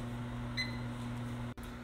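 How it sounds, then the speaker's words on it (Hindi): A microwave oven heats tomatoes in a microwave-safe container, giving a steady low electrical hum with a brief higher tone partway through, quiet and alone before cutting off abruptly. "अब मैं टमाटर माइक्रोवेव में रख दूंगा"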